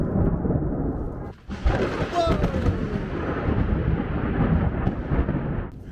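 Loud, rolling thunder from a huge lightning strike, a sustained heavy rumble with rain behind it that briefly dips before crashing back in and holding for several seconds; one person exclaims in surprise.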